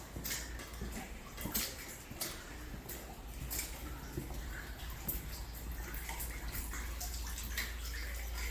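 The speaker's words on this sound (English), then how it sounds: "Water is still pouring, as you can hear." Water pours steadily from a leaking hot water supply line inside a commercial building with a fallen drop ceiling, a continuous faint splashing wash with a low steady hum underneath.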